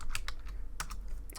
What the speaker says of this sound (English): sorry about my typing today, everybody